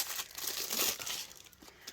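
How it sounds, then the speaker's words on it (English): Close, crinkly rustling of plastic packaging being handled, a brief burst of crackling that swells and fades over a couple of seconds. "Sorry about the rustling, I know that's really noisy."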